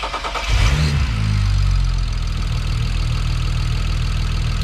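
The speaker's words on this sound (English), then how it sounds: "Corey go ahead and give her a start here" A BMW 335xi with the N54 engine, fitted with Pure 600 turbos and Index 12 injectors, cranks and fires about half a second in, then settles into a loud, close, steady idle with no talking.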